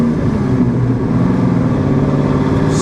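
A one-owner, bone-stock 1988 Ford Mustang GT with a stock shifter, driving and shifting gears: a loud, steady engine drone heard from inside, holding a constant pitch.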